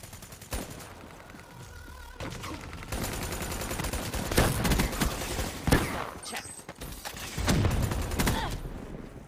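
Gunfire in Call of Duty Black Ops 3 on PS4, dense rapid automatic bursts and single shots mixed with in-game explosions and effects, loud and continuous.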